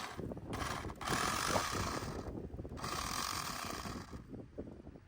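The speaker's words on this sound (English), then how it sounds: "I think the gear's going out." Worn, failing gears grinding in a Traxxas Bigfoot RC truck on a beach, a faint ratcheting whir that surges in bursts and drops between them.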